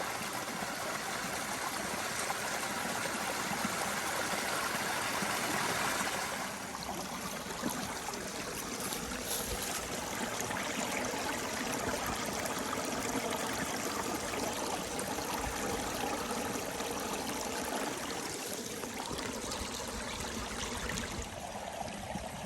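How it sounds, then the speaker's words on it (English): A small spring-fed mountain stream in the Appalachians trickles and burbles beside a gravel driveway, a continuous soft rushing wash with no voices. "This little stream that runs down beside the driveway by my shop just comes up out of the ground"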